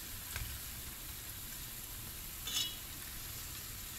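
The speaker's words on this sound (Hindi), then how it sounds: "चार से पांच मिनट तक आप इन्हें फ्राई करें" Falafel frying in hot oil gives a faint, steady sizzle throughout, with a couple of brief crackling bursts near the start and around the middle.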